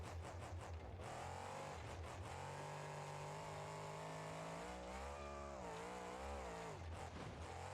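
Customized Gravedigger monster truck with a custom engine in the BeamNG.drive game, its engine droning and revving high with pitch swoops as it accelerates, a continuous mechanical roar.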